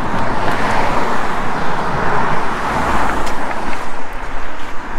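Steady roadway roar of cars and trucks passing on a Los Angeles street near a 1909 viaduct between Chinatown and Lincoln Heights, a dense continuous wash of traffic noise with no pauses.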